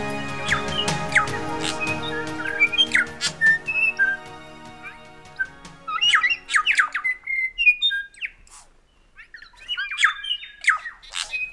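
Wild forest birds on Stewart Island, New Zealand, calling and whistling in a busy chorus of varied squawks and clear whistled notes, close and distant, with a brief lull before calls resume.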